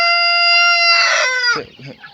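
A chicken lets out one loud, drawn-out call close by, then a few short clucks, where 40-day-old chicks have been let outside among the hens.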